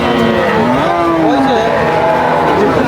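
A Holstein Friesian cow moos with a long, wavering low call at a busy cattle market, with crowd murmur and voices around it.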